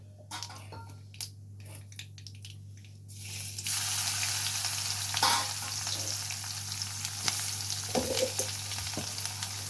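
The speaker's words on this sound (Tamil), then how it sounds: "கடுகு பொரியுது இப்போ வந்து கடுகு பொரிஞ்சதும் பூண்டு சேர்த்துக்கலாம்" Mustard seeds spluttering in hot oil while tempering for a home-style horse gram (kollu) kuzhambu. The pan is quiet at first, then a loud, steady sizzle with scattered crackles takes over for the rest of the clip.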